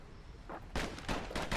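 Pistol gunfire in the video game Bastion: three or four quick sharp shots in close succession, fairly faint, with no talk.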